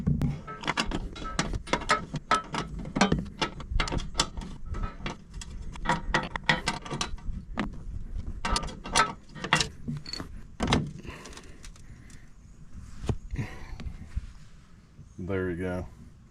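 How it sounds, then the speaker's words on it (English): A wrench works a bolt on top of the mower deck of a 2023 Cub Cadet ZTXS4 54 zero-turn mower, with a run of sharp metallic ratcheting clicks that thins out toward the end. "This wrench right here you can use it for this bolt"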